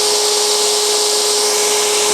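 A cowboy dagger blade pressed against a grinder, its grind line worked with steady, even pressure; a continuous, loud, bright abrasive hiss with a steady whine, running unbroken throughout.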